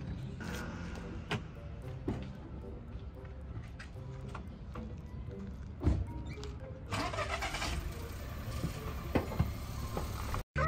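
A car engine starting and running, heard at moderate level with a sustained low rumble and a few sharp clicks and knocks, steady throughout and rising slightly near the end.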